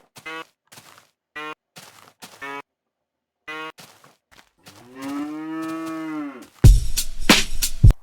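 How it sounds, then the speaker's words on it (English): Cows mooing in early Minecraft Alpha, a series of short clipped moos followed by a longer drawn-out low moo, then a burst of sharp thumping game sounds at the end. "Cows has been added. The sound they make is beautiful"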